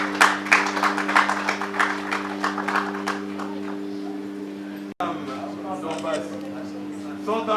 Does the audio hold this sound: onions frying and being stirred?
no